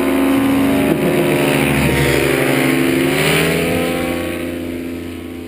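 Paramotor engine throttling up at an airfield during a training flight, a loud steady droning buzz with layered engine harmonics that swells briefly and then slowly eases off, with no talk over it.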